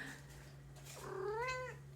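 A pet cat named Betty gives a single drawn-out, rising meow, close and fairly soft over a low steady indoor hum.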